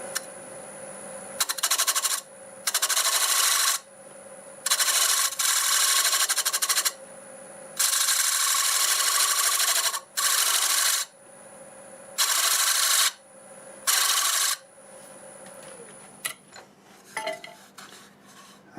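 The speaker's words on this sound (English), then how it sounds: "And we're going to taper this outside down for looks as well." A wood lathe cuts the outside taper of a wooden bowl in loud, harsh scraping bursts lasting a second or two each, separated by quieter spinning pauses, close up and without talking.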